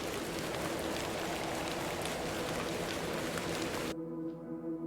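Steady rain falls in the horror adventure game The Excavation of Hob's Barrow, a dense, even patter that cuts off abruptly near the end, leaving a quiet tonal hum.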